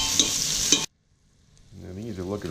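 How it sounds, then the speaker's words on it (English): Meatballs frying in a pan for spaghetti sauce give a loud, bright sizzle that cuts off abruptly, followed by a quieter, lower sizzle and crackle that builds back up. "When that sizzling settles down, you know they're done."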